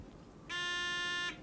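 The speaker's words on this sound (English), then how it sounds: "Buzzers all working." A quiz bowl buzzer being tested, one steady harmonic electronic tone lasting under a second, clear and alone against a quiet room.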